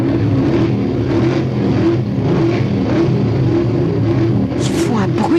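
Racing car engines roar and rev continuously at close range, loud and droning, with a sharp high whine rising near the end.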